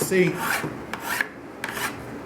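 A few short rasping sanding strokes rub across a hard helmet surface, close up, with brief pauses between them and no speech.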